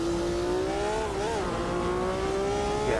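Formula Retro V8 race car engine in Automobilista 2 at Bathurst, a steady loud droning note held near constant, dipping briefly mid-clip and rising slightly at the end, with no talk.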